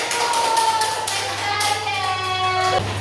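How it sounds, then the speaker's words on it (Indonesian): A primary school class clapping for a group after a role-play lesson, a short burst of many small hands with a teacher's voice running over it, ending abruptly near the close. "Oke, tepuk tangan buat kelompok 1."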